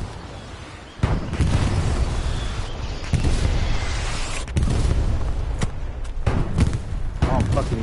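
Rocket blasts and gunfire in the World War II shooter Hell Let Loose during an attack on a tank: a sudden heavy explosion, then a dense roar of battle punctuated by repeated sharp bangs and booms, loud and close.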